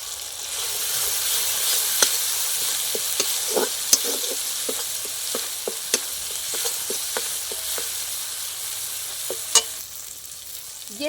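Spices and turmeric fry with mustard paste in a pan for a vegetarian eggplant dish, a constant soft sizzle broken by sharp scrapes and taps of the stirring spoon at an irregular pace.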